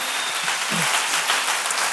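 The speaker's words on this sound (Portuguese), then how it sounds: "Pode dar uma salva de palmas para Jesus" A church congregation applauds during a service with steady, dense clapping from many people, loud and continuous throughout.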